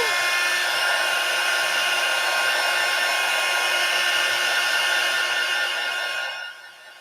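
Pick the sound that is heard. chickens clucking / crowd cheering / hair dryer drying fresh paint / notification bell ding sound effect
hair dryer drying fresh paint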